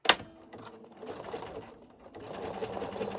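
A sewing machine zigzag-stitches over a piece of wire, running in a steady mechanical whir that starts after a brief knock, stays close and fairly quiet, and builds slightly toward the end.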